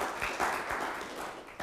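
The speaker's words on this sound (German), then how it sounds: "Dafür gibt es, glaube ich, auch einen kleinen Applaus." Short, modest applause from a seated audience at an academic video-processing colloquium, a brief patter of clapping at moderate volume.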